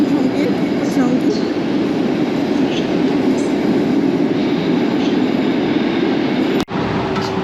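Train standing or moving slowly at a terminus station where services end their run, a steady low rumble of rail cars and wheels filling the whole stretch, with one sharp click near the end.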